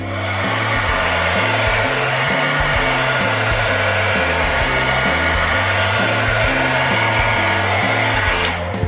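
A handheld hair dryer blows steadily and loudly, aimed upward through hair to build volume during styling, its airflow roar holding constant with a slightly shifting tone as it moves, with no talk.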